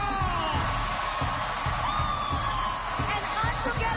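A large crowd screams and cheers at Singapore's National Day Parade 2014, forming a loud, continuous roar with whoops over steady, rhythmic low thumps.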